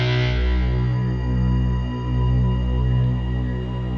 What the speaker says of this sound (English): and then it crossfades into a pad sound